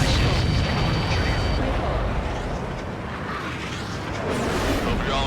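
A missile strike in the Ace Combat 7 flight game bursts into a loud, sustained roar of explosive rumble and crackle that fills the whole stretch, heavy and close.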